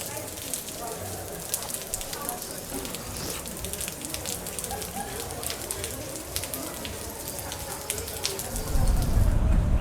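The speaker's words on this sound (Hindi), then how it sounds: "फिर से बारिश शुरू हो गई है" Steady rain at Lavasa hill station, Maharashtra, patters and crackles on surfaces nearby, a dense continuous hiss with scattered drops, growing heavier with a low rumble near the end.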